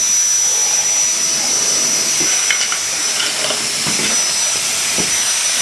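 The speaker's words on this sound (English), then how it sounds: "can I just like blow this stuff off the desk?" JisuLife Ultra2 handheld fan blowing objects off a desk, a loud steady high-pitched whirring rush of air with faint knocks and taps as items are pushed across the surface.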